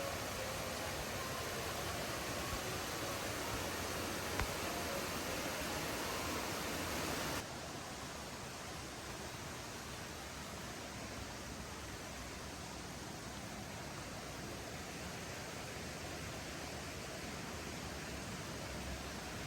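Waterfalls along a wooded foothills hiking trail swollen by recent rain, heard as a steady, even rush of falling water that continues unbroken, with no voices.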